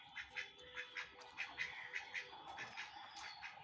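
A small group of farm ducks quack close by in a village yard, a string of regular nasal calls repeating roughly every half second, clear and alone without any talking.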